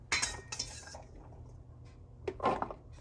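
Chickpeas tumble into a bowl with salt and garlic for homemade hummus, a few sharp clinks and rattles against the bowl at the start and again near the end, quiet between.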